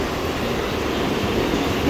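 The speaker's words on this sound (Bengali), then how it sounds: "একদম খোলা মুম্বাই লোকাল ট্রেন" A Mumbai local commuter train runs with a loud, steady rumble and roar, a continuous rolling noise close by with no voices.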